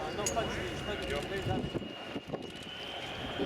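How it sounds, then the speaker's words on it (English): A Lockheed Martin F-35B Lightning II jet comes in to land at the RIAT 2016 air show, a steady broad roar of engine noise with a fainter whine that holds throughout. "Thus, into land the Lockheed Martin F-35B Lightning II"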